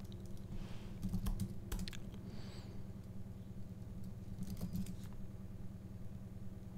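Keys tapped on a computer keyboard while entering a Laravel Vapor command, quiet scattered keystrokes in short bursts over a steady low hum, with no talking.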